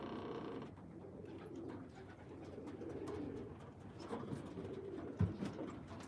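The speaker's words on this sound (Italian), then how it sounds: "Perché ho il piccione che sta covando due uova, e ci sono gli altri che lo disturbano" A pigeon brooding two eggs coos softly in a quiet room, with low repeated throaty calls and light fluttering or scraping noises, one brief louder thump near the end.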